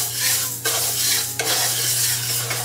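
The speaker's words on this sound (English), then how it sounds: "So first I will roast this moong dal" Moong dal dry-roasting in a pan while being stirred, with a few sweeping scrapes and clinks of a utensil against the metal over a faint, continuous sizzle-like hiss.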